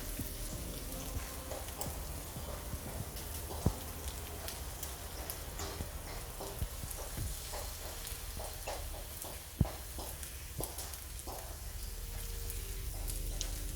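Ginger and garlic frying in a pan while onions cook for chilli paneer, giving a faint, even sizzle and crackle throughout with a couple of sharp clicks.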